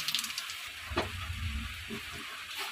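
Whole bay leaf, whole garam masala and cumin seeds sizzle in hot oil for a chicken kosha, a steady soft crackling hiss with a brief clatter near the start of the tempering.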